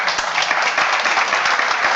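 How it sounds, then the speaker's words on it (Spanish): Steady audience applause at a summit gathering in Madrid, dense and continuous clapping from a large crowd, moderately loud and even throughout. "con otro aplauso, por favor"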